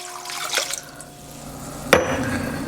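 Bone broth from a can pours and splashes into a soup pot of turmeric and rosemary, a soft liquid trickle and drip with a light clink of the can against the pot, close by and fairly quiet.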